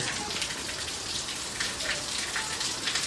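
Heavy rain pours steadily, a dense close roar of drops striking surfaces with no pauses.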